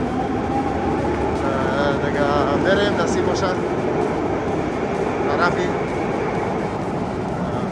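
Metro train at Metropolitano station in Madrid, a loud continuous rumble and rattle of rail cars, with someone talking over it.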